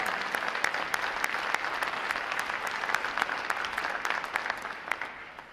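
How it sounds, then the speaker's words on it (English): Sustained applause from a crowd at a U.S. Navy boot camp graduation ceremony, dense clapping holding steady for several seconds before tapering off slightly at the end. "how about another round of applause for our unit individual awards?"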